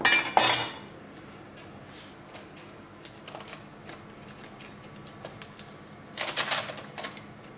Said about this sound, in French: un demi-fenouil qu'on va essayer de couper assez fin